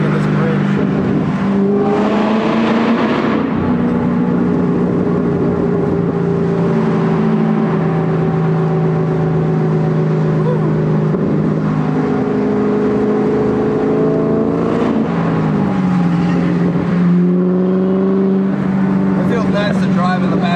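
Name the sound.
stock 2003/2004 Ford Mustang Cobra accelerating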